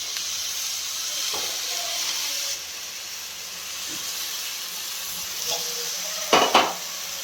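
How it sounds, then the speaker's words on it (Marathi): Carrot halwa sizzles and hisses in a pan as milk is stirred in, a steady frying hiss with a few soft clinks of the spoon against the pan near the end. "आणि छान परतून घ्यायचं याला पण."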